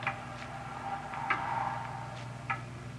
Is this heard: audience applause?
no